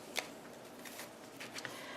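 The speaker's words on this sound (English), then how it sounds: "what I'm going to do is shuffle the cards" Oracle cards shuffled by hand, soft quick riffling and flicking bursts with a few sharper slaps, close and quiet.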